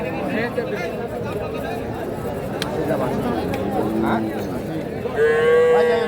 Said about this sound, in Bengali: শুরুতে একটা ষাঁড় বাচ্চা দেখছি এবং সেই সাথে একটা সুন্দর সাইজের গাভী